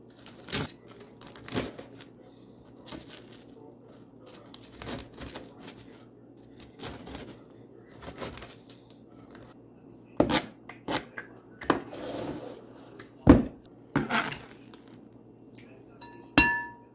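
A knife chops cooked, crumbly bacon on a board in a kitchen, giving sparse sharp taps that come in quick bursts, louder toward the end, with quiet gaps between.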